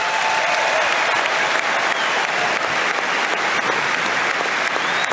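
A large stadium crowd at the 2023 French Open men's tennis final applauds loudly and continuously, a dense wash of clapping and crowd roar with no break.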